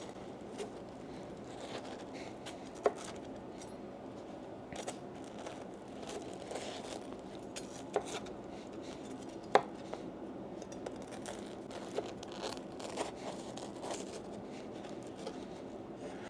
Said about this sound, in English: I just like to get a nice sharp knife, just cut them right into, make them all individual sandwiches.